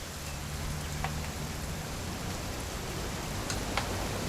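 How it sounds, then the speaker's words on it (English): Continuous steady rainfall in a video game, a dense hiss of drops landing on surfaces, with a few faint louder drips; no voices. "It's gonna rain the whole weekend,"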